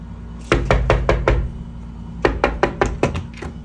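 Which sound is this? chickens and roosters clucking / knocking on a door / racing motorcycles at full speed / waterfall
knocking on a door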